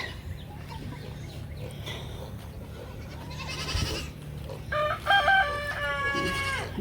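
Farm animals at an evening farm, with a goat bleating and chickens clucking and crowing over low rumbling background noise, the calls growing louder and more frequent toward the end.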